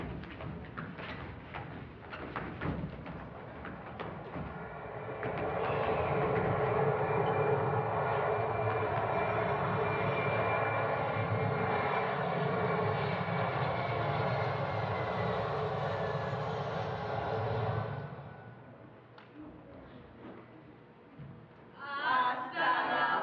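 An airplane engine sound effect in a stage performance swells into a steady, moderately loud roar that holds for several seconds, then fades out, with other stage sounds before and after.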